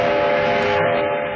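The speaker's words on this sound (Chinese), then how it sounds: "一列从苏联开来的国际专列悄然进站。" A steady, loud rumble of a train pulling into a station, with a sustained whistle-like tone over continuous rolling noise throughout.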